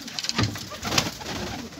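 A pet pigeon coos close by, a few soft throaty coo notes in a short burst, fairly quiet with no speech.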